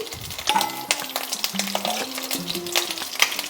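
Cauliflower pieces frying in a covered pan over a low flame as they are turned, with a busy crackling sizzle and repeated close scrapes and taps of a spatula against the pan, and no voices.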